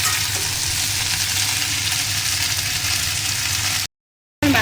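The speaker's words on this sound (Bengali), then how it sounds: "তো আপাতত ফুলকপিটা একটু ভাজা হোক, একটু ভালো করে ভাজা হোক" Steamed cauliflower florets sizzle steadily in a pan, a continuous loud broadband hiss that holds for nearly four seconds before a brief gap of silence and a short return.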